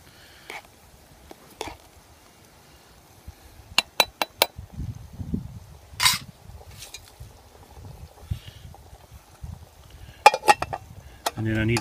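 Metal utensil clinking and scraping inside an M35 French mess kit pot while food is stirred, sparse sharp taps and rattles at close range, with quiet speech in places.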